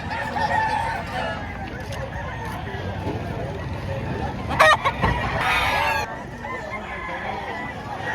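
A black Mount Manao rooster at a poultry market in Padre Garcia, Batangas, crows loudly nearby and clucks, set against steady market bustle with people talking.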